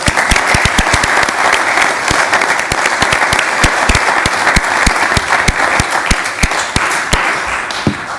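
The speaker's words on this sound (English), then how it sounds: "Let's give those ladies and the Uniquely Wisconsin team another round of applause." A county board meeting audience applauds the Uniquely Wisconsin team, loud close clapping from a sizeable crowd with crisp individual hand claps punctuating a steady roar throughout.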